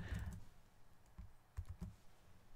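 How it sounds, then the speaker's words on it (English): Computer keyboard typing in a quiet room: a short burst of keystrokes, then a few isolated soft clicks, faint and close. "paste that in by pressing Ctrl and V"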